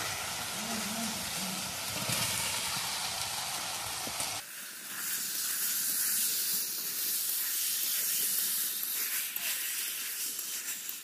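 Meat dropped into a pan of fried spices, a steady loud hiss and sizzle that shifts brighter partway through and keeps going without a break.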